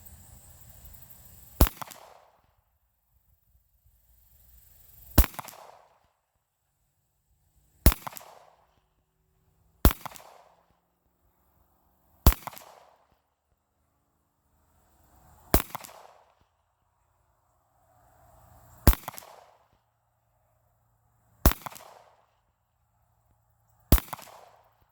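A 9mm Glock pistol fires at a 100-yard target: about ten sharp, loud single shots with gaps of several seconds between them, each cracking out and fading with a short echo in otherwise quiet surroundings.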